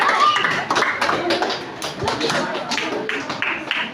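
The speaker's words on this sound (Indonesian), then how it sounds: "beri tepuk tangan dia." Children in a classroom clap their hands for a group about to present, irregular and slightly scattered claps, close and fairly loud, over a few seconds.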